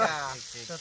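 Fish frying in hot oil during village outdoor cooking, a steady close sizzle and crackle running under a voice speaking over it.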